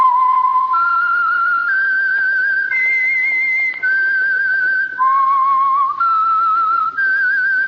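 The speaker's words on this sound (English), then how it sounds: "the signal to listen for is this whistle that identifies the Signal Oil program, The Whistler" A human whistled signature melody identifying the Signal Oil radio program The Whistler, a loud, clear, steady tune of sustained notes stepping up and down, heard alone.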